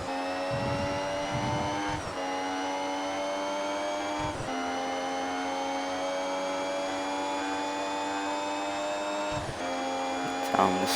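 A race car engine in a racing simulator game at Silverstone holds a steady high whine as it accelerates down the straight, with brief dips at gear shifts around every couple of seconds.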